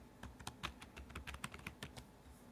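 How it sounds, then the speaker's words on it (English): Quick, irregular keystrokes on a computer keyboard as a search is typed, close and fairly quiet, with clustered clicks spread over a couple of seconds and no voice. "type in your search"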